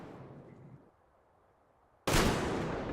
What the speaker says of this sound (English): The shots were delayed.